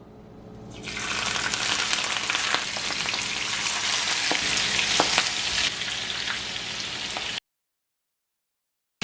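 Batter-coated clams fry in hot oil for an eggplant clam curry, giving a loud, continuous crackling sizzle close up that builds quickly and then cuts off abruptly.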